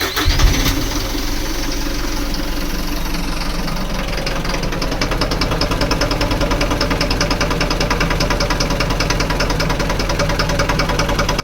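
A Hino Euro 4 diesel truck engine with malfunctioning No. 2 and No. 3 injectors starts up and settles into a loud, rapid rhythmic fuel knock that continues steadily at close range.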